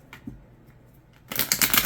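Tarot cards shuffled loudly during a reading, a dense burst of rapid riffling and fluttering that starts abruptly after a quiet moment and continues close up to the end.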